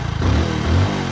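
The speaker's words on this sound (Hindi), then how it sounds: "बस अपनी गाड़ी को ऑन करना है इस तरीके से, बस ऑन करके 2-3 बार ऐसे करके रेस देना है" A Hero HF Deluxe motorcycle engine is revved twice in quick succession, close and loud, the idle rising and falling between blips, with no talking.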